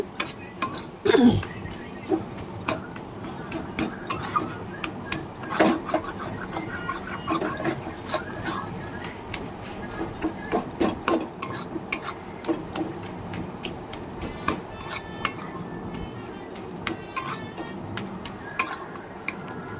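Spice paste being stirred in a hot pan of oil while cooking a spicy pangas fish curry, with scraping utensil strokes, clinks and a soft sizzle repeating irregularly and close by throughout.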